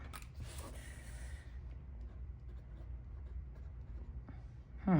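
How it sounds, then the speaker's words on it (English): A Benu Euphoria Neapolitan pen writes on paper, giving a faint, close scratch of nib strokes over a low steady room hum, with no talking. "Let's see if the pen writes much lighter on this paper as well."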